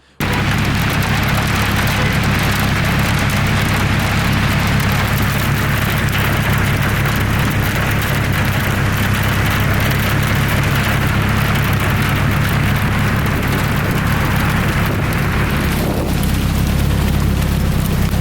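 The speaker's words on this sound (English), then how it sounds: "Adolfo, it's hailing on your car." Steady dense patter of hail drumming on a Mazda Miata's body, continuous and close, with a low rumbling undertone throughout.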